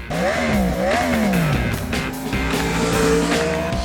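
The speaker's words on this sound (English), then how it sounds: "It's this part of the motorcycle that makes you go faster." A motorcycle engine revs up with rising pitch sweeps, loud and close, the tone climbing and dropping as it accelerates.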